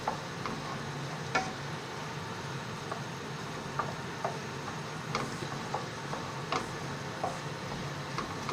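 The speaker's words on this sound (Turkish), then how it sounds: "tereyağını ilgili Soğanları koyuyorum hemen. Soğanı şöyle bir döndüreceğim." Onions stirred in melted butter in a pan, as a base for Spanish omelette: a steady low sizzle runs throughout, broken by scattered light ticks and scrapes of the utensil.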